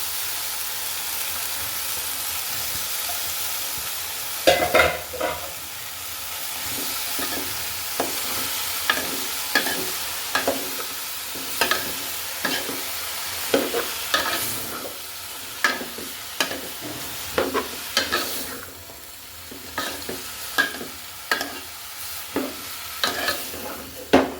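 Chopped potato and ash gourd peel stir-fried with spices in a pan, a low steady sizzle punctuated by repeated sharp scraping stir strokes of a spatula, close and without talk.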